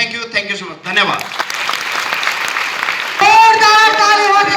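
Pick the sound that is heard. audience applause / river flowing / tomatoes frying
audience applause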